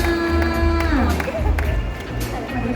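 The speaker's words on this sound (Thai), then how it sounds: "ขอเสียงปรบมือหน่อยค่ะ" An audience at a product launch event for a new Scholl shoe collection in Thailand breaks into scattered clapping and cheering, a loose crowd wash under a voice speaking over a microphone.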